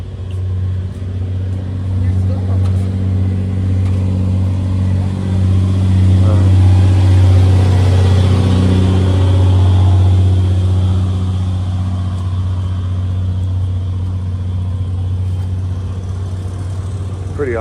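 A big LS V8 engine idles with a deep, steady rumble and swells briefly as it revs, loud and close, heard alone without talking, at an outdoor car show.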